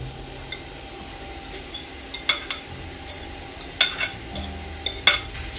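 Spaghetti squash is tossed with garlic in a pan, soft sizzling beneath intermittent scraping and clinking of a utensil against the pan, close and fairly quiet.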